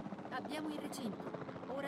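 A helicopter flies back home in the video game Jurassic World Evolution 2, its rotor thrum steady under someone talking in Italian.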